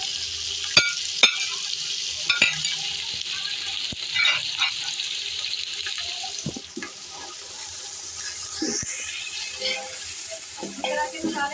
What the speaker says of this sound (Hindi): और ये सारे मसाले, इसलिए साबुत हरी मिर्च भून लेंगे हम।